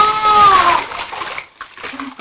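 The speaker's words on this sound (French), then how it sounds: "En tout cas, tu fais des grosses vagues," A child splashing water in a bath, making big waves, with a burst of broadband sloshing early on that fades into quieter splashes and a brief voice near the end.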